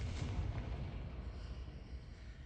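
A Confringo fire spell from a Harry Potter video game erupts in a deep, rumbling blast that rolls on and slowly fades over a couple of seconds, with no voices.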